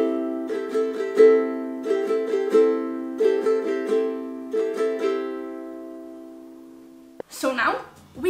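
Ukulele strummed in an even down-up rhythm, bright chords ringing in short bursts with brief pauses, then a voice begins at the end.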